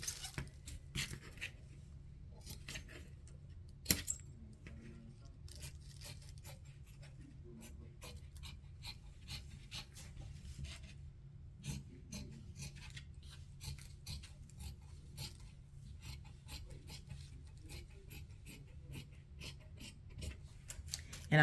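Scissors cut through fabric along a sewing pattern, a long run of close, crisp snipping and crunching strokes in an irregular steady rhythm over a quiet background, with one sharper knock early on.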